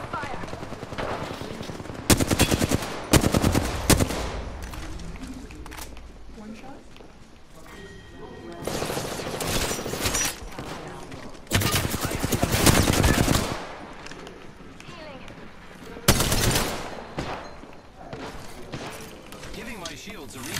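Video game gunfire comes in several loud automatic bursts, each a second or two long, separated by quieter stretches where voices talk.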